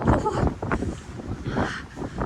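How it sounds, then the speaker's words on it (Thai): Strong wind gusts buffet the microphone at a boat harbour in Norway, a steady rough roar that swells and dips over a couple of seconds. "อุ้ยลมแรงมากเลยค่ะทุกคน"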